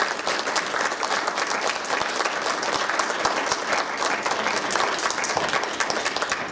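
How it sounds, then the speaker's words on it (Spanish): Audience applause fills a museum conference hall after a talk on colonial Mexican casta paintings: dense, even clapping from many hands, sustained for about six seconds with no voices. "le damos un aplauso"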